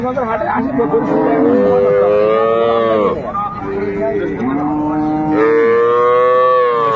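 Dairy cows low at a busy cattle market, several long drawn-out moos following one another and rising and falling in pitch, loud and close throughout.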